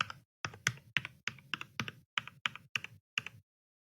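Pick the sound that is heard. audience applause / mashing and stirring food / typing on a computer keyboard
typing on a computer keyboard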